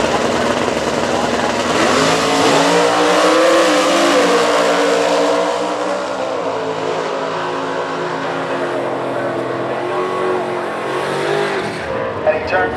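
Superstock drag racing cars on a quarter-mile strip: loud, sustained engine roar rising in pitch as the cars accelerate, then fading away toward the end, with an announcer talking over it.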